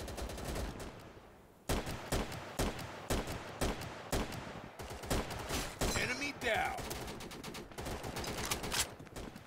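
Rapid bursts of gunfire in a shooter video game, sharp repeated shots and automatic volleys crackling close by in an irregular rhythm, with players talking excitedly over the shooting.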